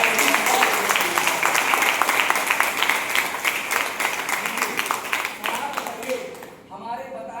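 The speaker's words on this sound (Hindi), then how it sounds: "जोरदार तालियां" Loud audience applause at a motivational seminar closing session, dense clapping filling the room for about six seconds before tapering off, with a voice starting to speak near the end.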